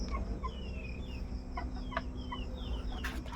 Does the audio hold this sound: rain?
no